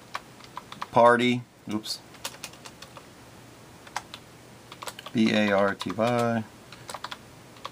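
A computer keyboard is typed on while entering text into an Excel party supplies spreadsheet, producing scattered close key taps between short bursts of speech.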